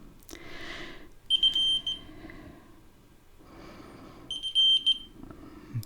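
Elgato Smartkey Bluetooth tracker sounding its locate alert: two short bursts of high, piercing electronic beeps, each a rapid repeated chirp lasting under a second, set apart by a few seconds of quiet room tone.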